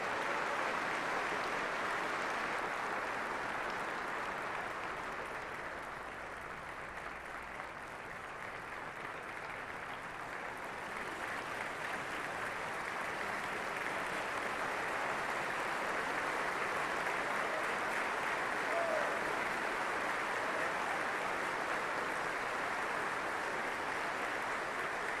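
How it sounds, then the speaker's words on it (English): Sustained applause from a large audience honoring Army non-commissioned officers in Alaska, a steady, even wash of clapping that fills the room for about twenty-five seconds without a break. "let's have a big round of applause for all of our outstanding non-commissioned officers"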